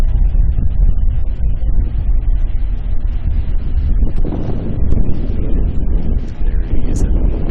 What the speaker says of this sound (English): There is a big gust of wind here behind Ma